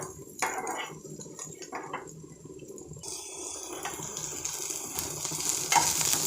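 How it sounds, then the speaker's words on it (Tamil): Onions sautéing in a pan for pepper rice, a continuous close sizzle with the scrape of a stirring spoon that grows louder and hissier toward the end, with no voices. "வெங்காயம் கொஞ்சம் நல்லா வதங்கிடுச்சு"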